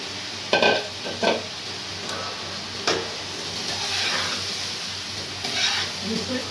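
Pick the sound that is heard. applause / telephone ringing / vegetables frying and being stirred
vegetables frying and being stirred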